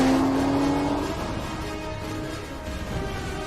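Aston Martin DBS careening off the road in a film stunt wipeout, a loud engine roar with road noise that eases slightly after the first second and continues steadily, with no crash impact clearly standing out.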